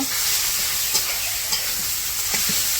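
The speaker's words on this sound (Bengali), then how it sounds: "এই যে শাকগুলো দিয়ে দিল" Greens going into a hot pan fry with a steady, close sizzle, broken by a few soft stirring knocks during Bangladeshi village home cooking.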